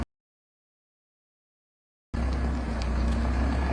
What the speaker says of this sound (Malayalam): കണ്ടില്ല എന്ന് പറയല്ലോ വണ്ടി ഇറക്കുന്നത്.